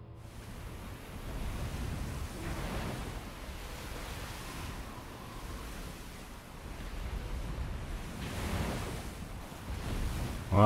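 Ocean waves washing around a sinking ship in the submarine game Silent Hunter 4, a low rolling surf and wind rumble that swells and eases in slow surges, faint and steady with no voices.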